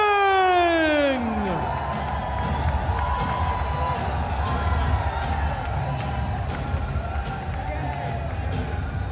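A large crowd cheers and roars at the MFN 16 fight night, with the sustained noise carrying steadily throughout. A falling whistle-like tone sweeps down over the opening second.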